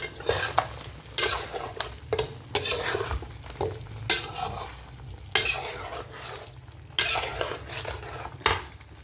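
Ginger and garlic, one and a half spoons each, sizzle in a pan for a mutton dahi gosht while a metal spoon repeatedly scrapes and clinks against the pan in irregular bursts, close by, with no talking.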